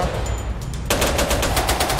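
In a GTA game, a machine gun fires a rapid, loud burst of evenly spaced shots after a short quieter lead-in.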